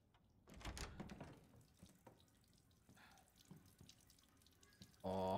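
Running water in the video game Resident Evil Village, a tap-like splashing stream that swells early then trickles quietly with faint drips, ending in a sudden loud burst of tonal game sound.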